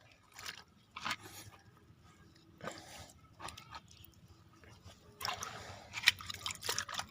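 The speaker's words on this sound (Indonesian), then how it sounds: "Coba akan saya siram biar kelihatan ya untuk seperti apa akarnya" Water is poured over the soil and roots of a hibiscus (waru) bonsai suffering from root rot, giving faint, intermittent splashing and dripping that swells into a louder trickling burst near the end.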